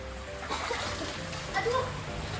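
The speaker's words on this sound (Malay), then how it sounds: "Bunyi terjunan itu Bunyi pecahkan air akan membangkitkan mereka berdua di dalam rumah sana" Someone jumps into a pond at a village in Sarawak, Malaysia, making a couple of soft, brief splashes of broken water over a quiet outdoor background.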